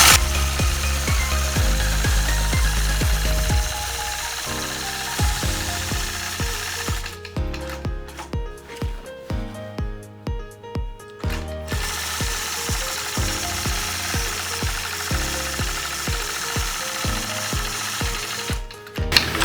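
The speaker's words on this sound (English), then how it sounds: "Engage my machine and stitch it out." A sewing machine stitches quilt circles along a Sway quilting ruler, making a close, rapid, steady mechanical pulsing that runs with a short pause midway, with no talk.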